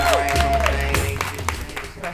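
A comedy club audience claps and cheers with whoops, a lively burst of applause over which a voice can be heard.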